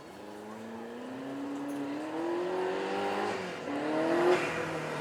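A rare Cobra 212 SC with a Lotus-derived 3.5-litre twin-turbo V8 making 350 horsepower, at a supercar weekend at Beaulieu. The engine note climbs and swells loudly nearby for several seconds, with the turbos coming off boost.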